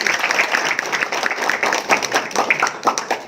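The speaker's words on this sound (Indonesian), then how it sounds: "Wahyu, tepuk tangan untuk Wahyu." Lively applause from an audience at a seminar, dense clapping with distinct individual claps popping out near the listener, holding at a steady level for a few seconds.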